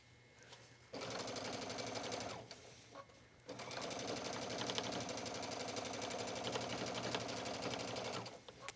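A sewing machine stitches a towel hoodie, its quick rhythmic needle chatter running in two sustained bursts separated by a short pause, moderately loud and close with no talking.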